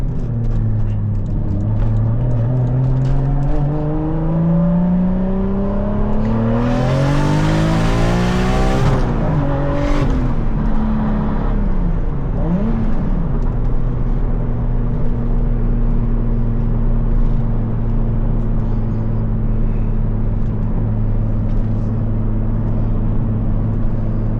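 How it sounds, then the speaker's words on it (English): A Toyota MK4 Supra cruises with a loud, close engine drone that climbs sharply through a hard rev and boosted surge, then settles back to a steady hum with a brief second rise, with no talk. "That's my car. That's what it's like to cruise around with, do some rips."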